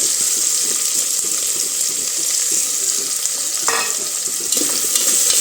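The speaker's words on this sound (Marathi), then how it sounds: "कांदा थोडासा परतून घेणार आहोत आपण तेलावरती" Onion sautéing in oil in a pan for a mixed vegetable dish, a steady close sizzle with faint stirring scrapes throughout and no talking.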